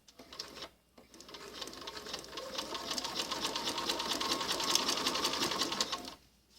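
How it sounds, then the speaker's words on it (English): A sewing machine stitches along a rolled fabric hem for an infinity scarf, running steadily and close for about five seconds after a brief start and pause. "I'm going to guide gently into the foot and start sewing."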